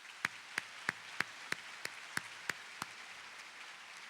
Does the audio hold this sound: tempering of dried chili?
no